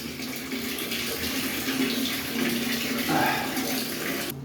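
Water runs steadily from a tap into a bath, a continuous broadband splash and hiss holding at a fairly close, even level throughout.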